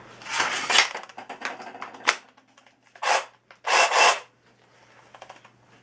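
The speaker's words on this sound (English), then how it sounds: "I'll just use the sawzall I have." A reciprocating saw cuts through the track bar linkage on a 1998 Dodge in bursts of harsh rasping, several short strokes and then two longer, louder cuts with pauses between them, close up with no talking.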